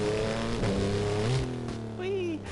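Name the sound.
car driving and revving in video game Burnout Paradise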